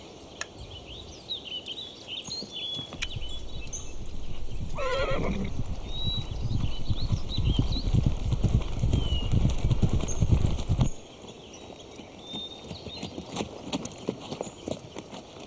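Horse from the Conan the Adventurer series neighs loudly in a rising, wavering whinny mid-clip, while steady hooves clip-clop close by for several seconds, then stop, leaving faint birdsong in the outdoor background.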